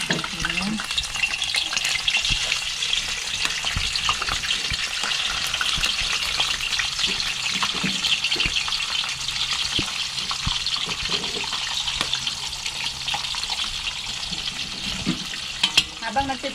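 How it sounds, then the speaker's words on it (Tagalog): Food fries in hot cooking oil in an outdoor catch-and-cook setting, giving a steady, dense crackling sizzle throughout with occasional stirring clinks, close and continuous with no talk. "Habang nagpiprito ako dito,"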